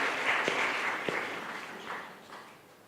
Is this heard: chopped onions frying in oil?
no